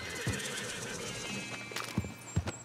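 A horse in the Red Dead Redemption video game whinnies, with hoof clip-clops and game ambience beneath it. A few short thuds and higher tones come late in the clip, all steady and fairly close.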